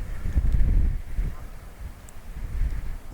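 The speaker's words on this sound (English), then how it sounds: "it's incredibly windy today" Gusty wind buffets the microphone in low, uneven rumbling bursts, with faint rustling in the background and no one speaking.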